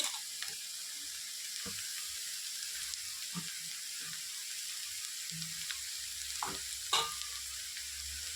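Thinly cut tender bottle gourd pieces fry in a pan with turmeric, a steady soft sizzle running throughout while a spoon scrapes and knocks against the pan now and then, close and moderately quiet, with no voices.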